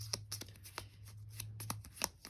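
A deck of game cards for the Unmatched board game gets shuffled at close range, with a run of quick, crisp riffles and snaps at an uneven rhythm over a low steady hum.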